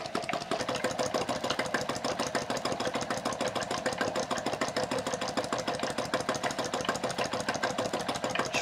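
A self-built model hot-air engine, kept lubricated with drops of oil, runs steadily with a fast, even mechanical chugging and clatter, close and loud throughout with no pauses.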